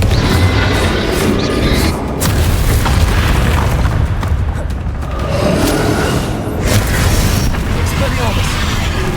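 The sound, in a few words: Bombarda or Confringo spell explosions in Hogwarts Legacy video game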